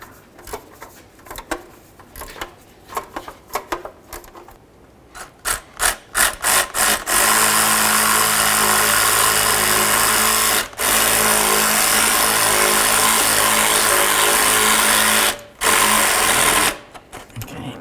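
Power tool snugging up the exhaust manifold bolts on a 2009-2020 Dodge Journey: short bursts of whirring at first, then long loud sustained runs broken by brief pauses, close up with no talking.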